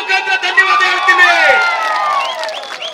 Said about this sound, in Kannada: KP ಬಚ್ಚೇಗೌಡ ಸಾಹೇಬ್ರಿಗೆ ನಿಮ್ಮ ಚಪ್ಪಾಳೆ ಮುಖಾಂತರ ಧನ್ಯವಾದ ಹೇಳ್ತೀನಿ